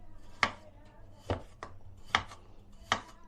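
Knife chopping potatoes on a board, five sharp, evenly spaced cuts against a quiet background, close and distinct.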